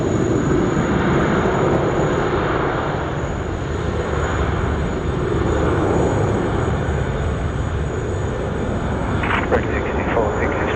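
A Boeing 737-800 airliner takes off from runway 16 right at Sydney Airport, with a steady, heavy engine roar that holds loud and constant throughout and a voice talking faintly under it.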